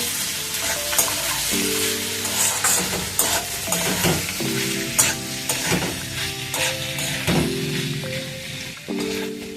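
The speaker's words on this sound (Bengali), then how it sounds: "চিকেনের টুকরোগুলো ভালো করে একটু ভেজে নেব" Chicken pieces sizzle steadily in hot oil, with repeated stirring and scraping in the pan and no talking.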